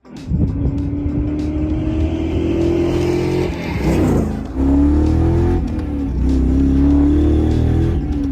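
A Tesla fitted with a supercharged 6.2-liter V8 revs loudly and close, its deep roar climbing in pitch through repeated accelerations, with a brief drop between gear changes.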